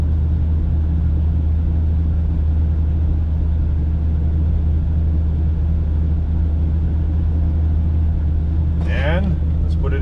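A 1979 GMC Vandura engine fitted with a new Edelbrock carburetor idles steadily up close, a loud, even low rumble that runs the whole time, with a brief voice breaking in near the end.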